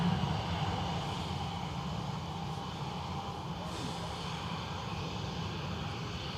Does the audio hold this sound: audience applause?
no